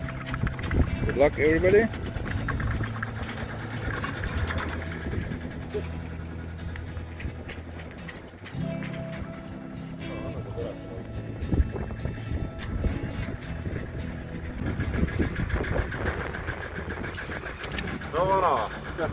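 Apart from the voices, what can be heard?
Volvo Penta sailboat engine running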